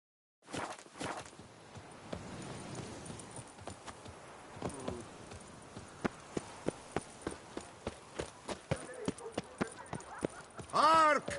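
Horse in The Witcher 3 video game galloping away, with a steady run of sharp, evenly spaced hoofbeats gathering pace over a continuous ambient bed, ending with a louder burst.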